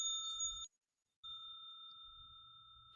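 A bell rings twice as a clear, sustained metallic tone, the first strike cut off after about half a second and the second ringing on steadily after a brief silence, over a low rumble.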